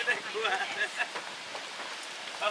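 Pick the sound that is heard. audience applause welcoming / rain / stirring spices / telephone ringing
rain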